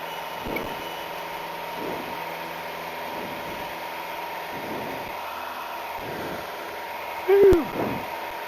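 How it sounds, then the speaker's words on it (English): Steady drone of a small airplane engine in flight at about 1000 feet, heard through a headset intercom as a constant hum with a brief tonal blip near the end. "Hopefully you can't hear all the airplane noise with the headset going through the thing."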